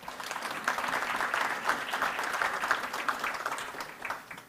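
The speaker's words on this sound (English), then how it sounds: "I think that deserves a round of applause" Steady applause from an audience at the Caribbean Week New York 2025 opening ceremony, with many hands clapping at once for about four seconds. The sound stays even and dense, and a few faint voices mix in.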